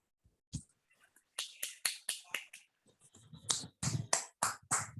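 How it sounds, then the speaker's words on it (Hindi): A few people in an audience at a career talk clap sparsely, with scattered sharp claps spaced apart. The claps grow denser and a little louder toward the end, with faint background murmur. "एक बार आप लोग अपने लिए एक बार जोर ताली जरूर बजाइएगा।"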